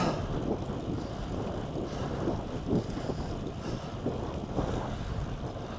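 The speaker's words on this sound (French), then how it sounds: "j'ai encore à nouveau le vent de face" Continuous headwind rushes across the microphone while cycling on a Triban RC 120 road bike, in a low, steady roar, with no voices.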